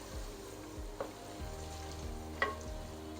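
Onions are frying in hot oil for aloo gosht, giving a steady close sizzle with light stirring scrapes and a couple of soft clinks, and no talking.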